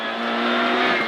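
A Peugeot 106 N1 rally car accelerating hard on a rally stage, heard from inside the cockpit: a loud, steady engine drone that climbs slightly in pitch as the revs build.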